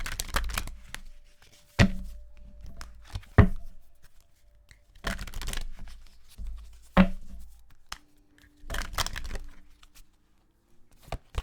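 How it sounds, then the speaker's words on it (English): Tarot cards are handled and laid down during a reading, sharp close taps and shuffling clicks spaced irregularly across a quiet background. "I'm just going to throw one more card to see what will be that additional message."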